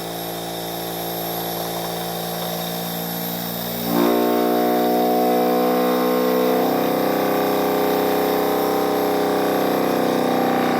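A loud, steady electric motor hum with sustained tonal whine, shifting pitch and intensity partway through as the speed changes.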